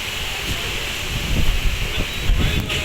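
Steady, loud rushing wind with rain buffets the microphone with gusty swells outdoors in Rishikesh, a constant roar like heavy weather.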